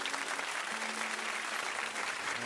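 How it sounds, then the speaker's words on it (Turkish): Studio audience applause for a guest invited on stage at a Turkish talk show, a steady, dense clapping wash from a crowd that runs the whole time without voices. "bu öncü firmanın da yönetim kurulu başkan yardımcısı Sayın Mehmet Çankaya Beyefendi'yi alkışlarınıza yanıma davet ediyorum."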